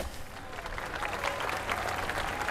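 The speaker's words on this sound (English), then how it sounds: "The audience applause was fake." Fake audience applause played at a presentation, a full, steady wash of clapping with faint crowd murmur beneath, sustained and even throughout.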